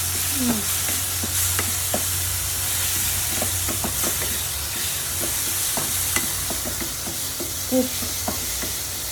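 Bitter gourd being stirred as it fries in a pan gives a steady close sizzle, broken by scattered clicks and scrapes of the spoon against the metal, with no talking.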